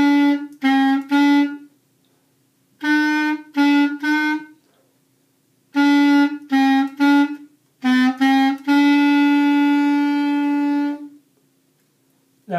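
Clarinet plays the opening four measures of a side-slipping exercise using the side key, as short groups of clear sustained notes separated by pauses, finishing on one longer held tone, solo with no talking.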